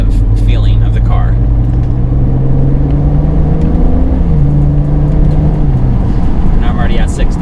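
A BMW fitted with a Burger Motorsports pedal tuner, engine still cold, accelerates up to speed, its engine tone rising and shifting through the gears with loud, steady road noise as people talk over it.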